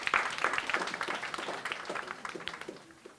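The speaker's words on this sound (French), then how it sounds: "applaudissez-vous" Audience clapping at a talk on critical thinking, a quick burst of applause that starts fairly strong and tapers off over a few seconds, heard at moderate distance.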